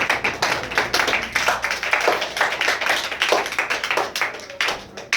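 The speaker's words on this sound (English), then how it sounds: "let's give a round of applause to them." A classroom group claps for Imani and Paul, a loud, close burst of many hands with sharp, dense slaps running continuously before trailing off near the end.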